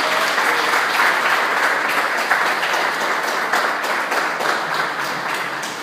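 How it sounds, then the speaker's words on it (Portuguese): A church congregation at a worship service applauds in a loud, sustained burst of many hands clapping together, thick and continuous from start to finish, with no speech over it. "Você pode aplaudir ao Senhor?"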